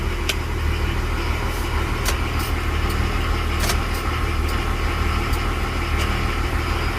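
A Nissan Patrol with an SD33 diesel engine runs steadily after a cold start from sitting, giving a continuous close, loud idle rumble with faint ticking and no voices.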